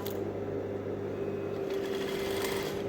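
A sewing machine runs steadily and continuously, stitching elastic onto trousers with an even mechanical whir, close and alone without voices.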